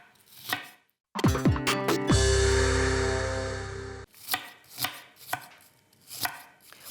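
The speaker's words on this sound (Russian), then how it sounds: "Нам нужна одна небольшая красная луковица. Нарезаем ее" A knife chops through a small red onion on a board, slicing it into thin strips in a quick burst of close, crisp cuts, followed by a few separate single chops.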